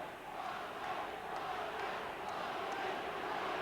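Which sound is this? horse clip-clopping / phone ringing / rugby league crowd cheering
rugby league crowd cheering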